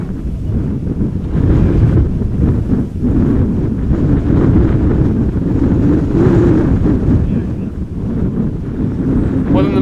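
Strong crosswind at Amsterdam Schiphol Airport buffets the microphone in a loud, continuous roar with gusty swells throughout.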